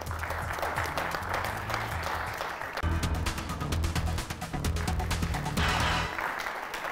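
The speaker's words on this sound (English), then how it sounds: "There's some applause." A studio audience at a high school quiz bowl taping applauds steadily for several seconds, dense clapping over a low rumbling undertone with no clear speech.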